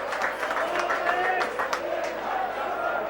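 Rugby league crowd at a Whitehaven versus Workington match applauding a player, a steady broad wash of clapping and crowd noise under commentary-like voices, even in level throughout.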